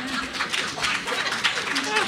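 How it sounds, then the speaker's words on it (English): An audience applauds at a comics convention panel, a loud continuous wash of clapping filling the room, with voices talking over it. "I did not know that would garner applause"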